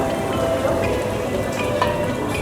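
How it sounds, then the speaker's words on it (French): White wine poured into a hot cataplana pan holding fish and seafood, giving a steady, loud hiss and sizzle with no talking. "Je mouille avec du vin blanc"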